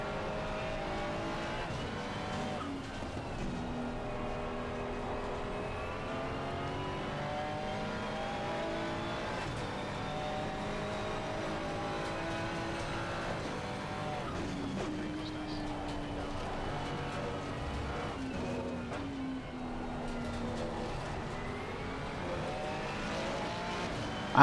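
A Ferrari race car engine in a racing video game at the Suzuka circuit drones steadily, its pitch rising and falling with shifts and revs, sounding close and continuous throughout.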